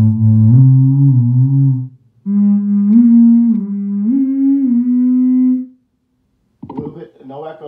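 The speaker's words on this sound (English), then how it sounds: "just a little bit of kind of what I would call a room effect" Moog Etherwave theremin played through a Zoom G1On multi-effects pedal on a light room-reverb setting, two loud sustained gliding tones with gentle vibrato, a short pause between them, then a brief noisy tail of handling sounds.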